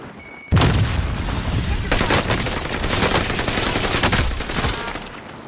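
A frag grenade bursts in Warzone: the blast hits abruptly after a short quiet lead-in, then heavy rattling gunfire and crackling shots carry on loudly for several seconds before tailing off.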